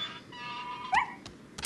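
A wolf in the video game Resident Evil 4 gives a short, high whimpering whine that rises and falls, then a couple of faint yelps follow over quiet in-game ambience.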